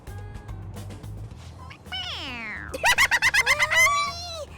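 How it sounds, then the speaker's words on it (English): A stuffed toy cat in the video game Persona 5 Royal gives a long falling meow, then a rapid string of short, loud chirpy meows over a low background hum. "It meows when you press on its head."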